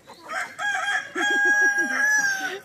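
A rooster, one of six backyard cocks, crows a single long, loud, close cock-a-doodle-doo with clucking hen sounds underneath.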